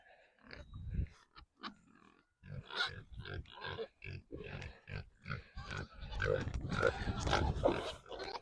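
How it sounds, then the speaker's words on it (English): Pigs being raised on a small farm for meat grunt and oink repeatedly in a close, busy run of short snorting calls with only brief pauses between them. "got a group of pigs that we're feeding out to sell."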